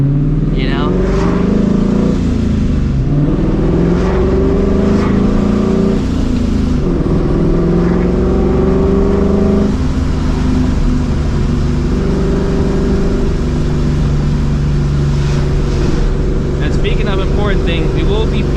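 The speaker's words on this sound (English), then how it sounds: "We will be fixing this exhaust leak way sooner than I was anticipating" Turbocharged Toyota FRS with an exhaust leak, driven hard with a loud, raspy engine note that rises and falls through revs while a person talks over it inside the car.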